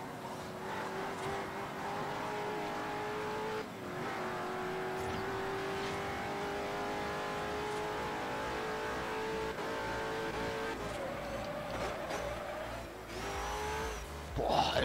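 Koenigsegg CCX engine in Forza Horizon, accelerating with a sustained rising roar and shifting tonal whine, a brief dip at a gear change, loud and steady throughout.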